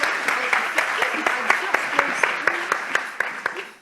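Applause continues at an awards ceremony, thinning clapping with distinct individual claps heard near, while a presenter's voice runs over it, the whole fading gradually.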